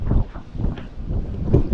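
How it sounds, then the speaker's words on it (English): Strong wind buffets a microphone on a boat out on the water during crappie fishing, with loud, low, uneven gusts and some knocking underneath. "This wind is severe."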